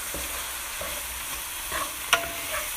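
Zucchini and onions sizzle steadily in a frying pan, with a few scraping stirs and one sharp clink of a utensil against the pan, close up and with no talking.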